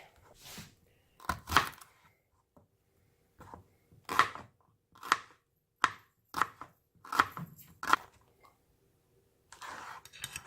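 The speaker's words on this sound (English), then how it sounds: "So I'm going to slice and dice up the shallots and the garlic." A knife chops shallots and garlic sharply on a cutting board in a series of crisp, irregular strokes, close and distinct, with brief pauses between cuts.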